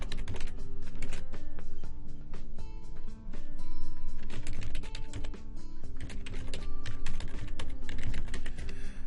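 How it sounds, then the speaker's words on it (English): Fingers type rapidly on a computer keyboard, entering an email password, a dense close clatter of key presses in fast bursts with brief pauses, alone without talking. "we're going to put in our email password over at the Hostgator side"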